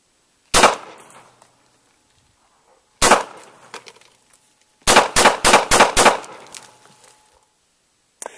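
Bersa Thunder .380 pistol fired in a field test: two single loud reports, then a fast string of five or six shots, each with a short echoing decay outdoors and no talking.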